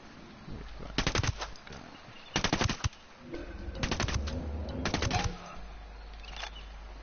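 Rapid bursts of automatic gunfire in a PS4 shooter as an enemy is gunned down, four or five loud, close volleys separated by short pauses over low background game noise.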